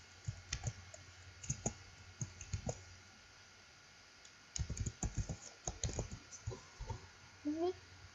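Keys clatter on a computer keyboard during graphic design work, in irregular bursts of close, crisp clicks separated by pauses, with a brief lull in the middle.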